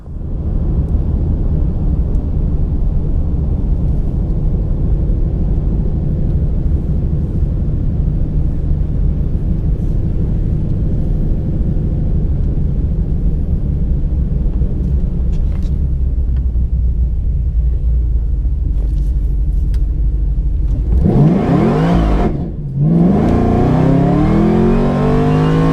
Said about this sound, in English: So I actually did a few 0 to 60 runs here recently